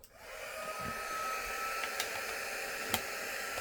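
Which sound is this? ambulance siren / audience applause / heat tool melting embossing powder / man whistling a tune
heat tool melting embossing powder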